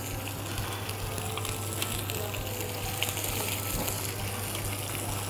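Large pork ribs searing in a preheated pan to brown them before roasting for honey glazed ribs, giving a steady, even sizzle that runs throughout without pause and with no voices over it.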